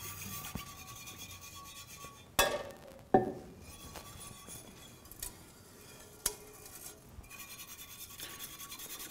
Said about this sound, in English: So just whisk to ensure that you have removed all the lumps